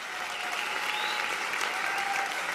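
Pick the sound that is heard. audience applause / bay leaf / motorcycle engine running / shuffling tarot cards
audience applause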